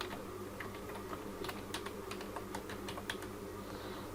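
Password being typed on a computer keyboard during a server setup, a quiet irregular run of light key clicks over soft background hum.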